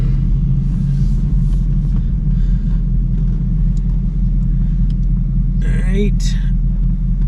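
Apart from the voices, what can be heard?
car suspension scrubbing while turning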